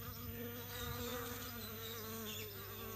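Honeybees buzz steadily at a hive entrance in spring while foragers bring in pollen, a dense continuous drone of many wings close by with no talking.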